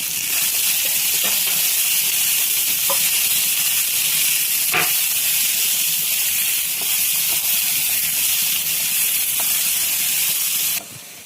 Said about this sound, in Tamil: நம்ம இதில் வெங்காயம், பூண்டு சேர்த்த போகிறோம். இப்போ இதை நல்லா வணக்கணும்.